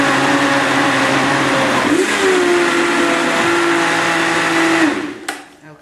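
A blender whirs steadily and loudly as it purees kale pesto with olive oil, its motor pitch dipping briefly partway through before it cuts off near the end.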